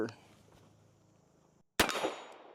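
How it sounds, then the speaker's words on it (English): A Korth Ranger revolver firing a single .38 Special round, one sharp, loud report after a brief silence, ringing out with a decaying echo, preceded by a faint voice and handling noise. "Let's go ahead and, like I said, shoot some more 38 Special through"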